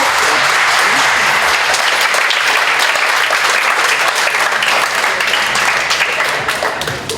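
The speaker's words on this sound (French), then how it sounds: "je crois qu'on peut applaudir toutes ces petites personnes" An audience applauds warmly at a 25th anniversary celebration in Grignols, sustained loud clapping from a crowd that tapers off gradually near the end.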